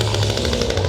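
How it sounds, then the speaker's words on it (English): A chainsaw drones at a Halloween haunt fest on a showground, a loud, close, buzzing engine held steady for under a second. "Some chainsaw guys."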